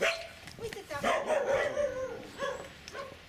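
A dog in a family yard barks and yips in short bursts close by, with a few whimpering notes between them.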